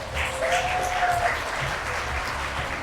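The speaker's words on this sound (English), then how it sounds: "One more time, round of applause, ladies and gentlemen" Applause from a birthday party crowd celebrating a 90th and a 60th birthday, steady and fairly loud clapping that fills the whole stretch, with a faint voice briefly audible near the start.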